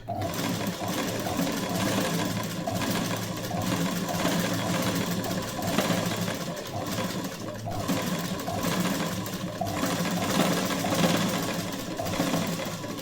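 Sewing machine stitching a piping seam, a continuous steady mechanical whir running alone at close range throughout.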